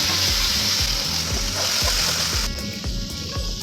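Prawns with ginger-garlic paste fry in reused hot oil, a steady loud sizzle with light stirring scrapes and a faint rhythmic knocking underneath, close up for a few seconds.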